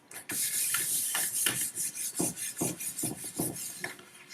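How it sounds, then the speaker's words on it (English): Steady rubbing with an eraser across a grainy patch of a gelatin plate monotype print, a close, rhythmic scratchy back-and-forth rasp with no talk. "This is a little grainy, so what I'm going to do is I'm going to erase"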